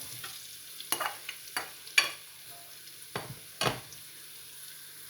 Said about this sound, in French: On fait revenir le tout.